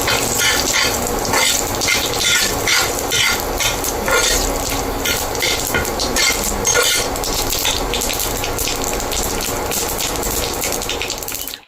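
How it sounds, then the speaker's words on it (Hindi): Curry leaves crackle and sizzle in hot oil with dried red chillies for a coconut chutney tempering, a loud, dense spitting hiss that runs throughout without talk. "कड़ी पत्ता डाल दिया है मैंने, ये भी अच्छे से चटकने लगेगा"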